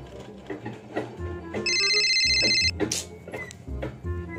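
A telephone rings with a steady electronic trill lasting about a second, loud and close, set among ongoing talk and background noise in a Hyderabadi comedy scene.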